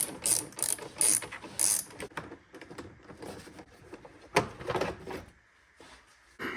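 Ratchet clicks in bursts from a hand ratchet being worked while removing the intake and fan on a BMW 335i, with short pauses between runs of rapid pawl clicking and occasional mechanical clunks.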